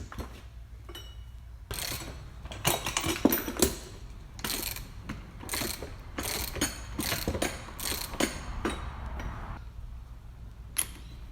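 A spring compressor is worked on the front suspension of a Porsche 981, with close, loud bursts of ratcheting clicks in irregular runs and no talking.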